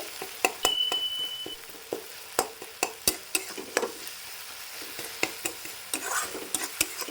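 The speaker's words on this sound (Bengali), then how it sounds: "এই যে গলে যাচ্ছে মানে টমেটোটাও হয়ে গেছে আর একটু নাড়াচাড়া করতে হবে" Tomatoes frying for a dhaba-style egg curry sizzle steadily in a pan while a spatula stirs them, scraping and tapping the pan in a quick, irregular rhythm.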